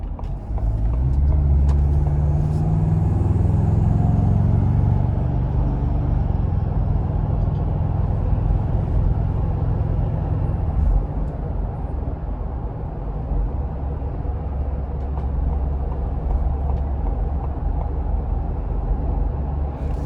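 A 2026 Ford Bronco Outer Banks with the 2.3-liter EcoBoost engine and 35-inch tires, heard from inside while driving: a steady, loud engine rumble with road noise that swells briefly early on, then holds even throughout.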